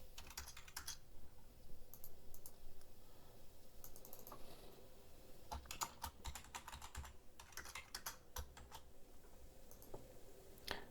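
Fingers tap a computer keyboard while logging in, quick bursts of clicking keystrokes separated by short pauses, close but quiet, no speech.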